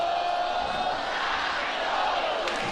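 A softball stadium crowd cheering and roaring steadily during an Oklahoma vs Alabama college softball game with the bases loaded, a dense continuous wash of voices heard from the broadcast position.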